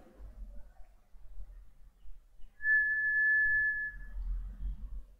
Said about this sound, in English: Now let's whistle.